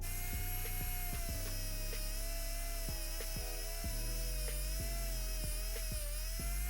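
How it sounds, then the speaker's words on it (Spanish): A small rotary tool whines steadily while polishing the steel bezel of a vintage Seiko 5 watch, its pitch dipping slightly as it presses against the metal, with regular faint clicks throughout. "ahora pulimos el bisel,"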